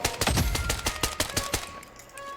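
Rapid automatic gunfire from the shooter game BloodStrike, around a dozen close, loud rhythmic shots in a quick burst that stops abruptly, with no talk.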